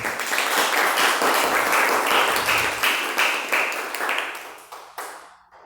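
Congregation in a church clapping together after a sermon, a dense, steady round of applause that holds strong for several seconds, then thins out and fades with a few last claps.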